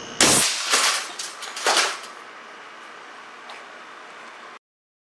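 An air cannon fires a 150-grain aluminum slug at 450 psi, giving one loud, sharp near blast at the start, a second crack a moment later, then a steady hiss of air dying away.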